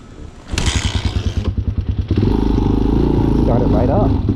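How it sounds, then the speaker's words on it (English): A low-priced motorcycle is kickstarted: rhythmic chugging strokes as the engine turns over, then it catches and settles into a loud, steady close idle with some mechanical rattle. "So today we're gonna try to kickstart instead of electric start."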